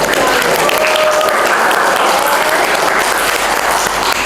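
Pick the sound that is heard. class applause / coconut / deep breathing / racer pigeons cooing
class applause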